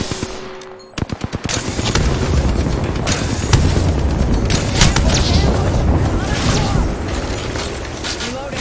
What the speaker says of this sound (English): Hands up, we've got an airstrike coming.